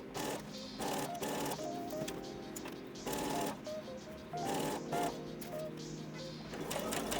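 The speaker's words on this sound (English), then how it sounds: "Starting from the hem, Straight stitch all the way up one side of the slit." A sewing machine straight-stitches up one side of a skirt slit, running in rhythmic bursts of rapid mechanical whirring and clatter with short pauses between runs, close and moderately loud.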